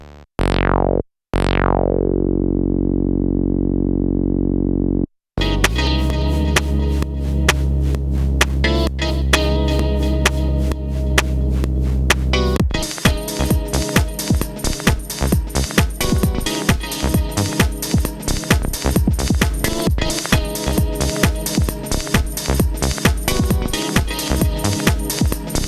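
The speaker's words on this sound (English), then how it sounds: "I guess this is the time to add the bass. I'm gonna use single cycle waveforms" An Elektron Digitakt plays a bass line built from single cycle waveforms, a loud, buzzing, harmonically rich tone in steady repeating notes with a throbbing rhythm, heard alone.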